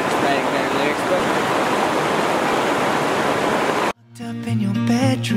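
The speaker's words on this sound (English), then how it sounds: "So I'm down by the river." A river flows with a steady, loud rush of broadband water noise for about four seconds, then cuts abruptly to tonal, voice-like or musical sound.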